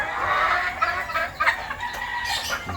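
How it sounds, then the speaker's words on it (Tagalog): Breeding broodcock rooster in a breeding pen clucks and calls in short, loud bursts close by, with other fowl noises and farmyard background underneath. "Okay, ito po yung broodcock natin."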